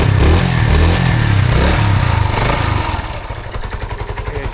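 A brand new Suzuki TU250X single-cylinder motorcycle runs close by, a loud throbbing engine that settles into a pulsing, lumpy idle as it quiets toward the end.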